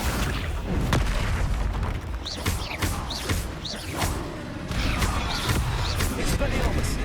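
A magical Confringo blast in Hogwarts Legacy, with several loud booming impacts and whooshes amid ongoing combat noise and a spoken voice casting spells.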